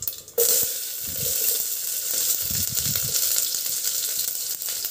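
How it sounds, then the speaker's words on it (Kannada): Mustard seeds and finely chopped onion dropped into about two spoons of hot oil, giving a steady bright sizzle after a sharp start, with small crackles and pops throughout. "ಸಾಸಿವೆ, ಸಣ್ಣದಾಗಿ ಹಚ್ಚಿಟ್ಟಿರೋದು 1 ಈರುಳ್ಳಿ ಹಾಕ್ತಾಯಿದ್ದೀನಿ."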